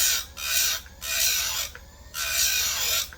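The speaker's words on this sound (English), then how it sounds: "I love these little old sharpeners like this" A hand file sharpens the chain of a Husqvarna 357XP chainsaw, giving four long rasping strokes in a steady back-and-forth rhythm, close and fairly loud, with no talking.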